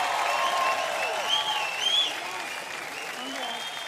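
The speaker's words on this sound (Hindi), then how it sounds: "जोरदार तालियां हो जाएं।" Sustained applause from an audience at a folk singing award show, a dense continuous clatter of clapping with cheers and a few voices mixed in, gradually softening over the last seconds.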